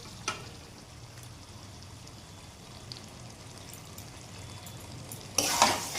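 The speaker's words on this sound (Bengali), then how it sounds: "এবার গরম মশলা দিয়ে নেড়ে নেব।" Chicken kosha with garam masala being stirred in a pan, giving a steady low sizzle and scraping hiss that swells into a louder, brighter burst of stirring near the end.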